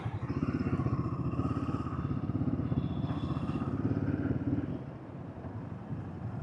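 A Royal Enfield Himalayan 450 motorcycle engine drones steadily at close range climbing a slight incline in second gear, a low, throbbing note held under load before easing off slightly near the end.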